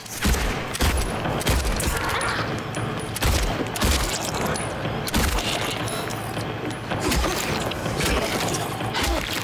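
Gunfire in the Silent Hill 2 Remake, repeated loud shots and mechanical clicks and clatter of a weapon spread across about nine seconds, with irregular bursts over a constant noisy bed.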